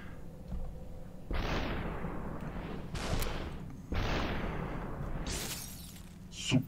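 Gunshots ring out in the Superhot game: a few sharp blasts, each followed by a long, fading, swooshing tail, spaced a second or two apart and fairly loud.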